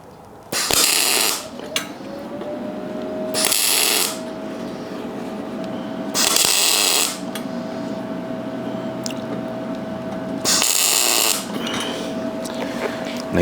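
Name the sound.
welding small spots on a utility trailer weed wacker rack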